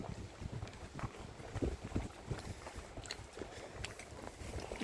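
Steady outdoor wind rushing and buffeting across the microphone beside a lake in Canada, with faint water sounds underneath and no talking.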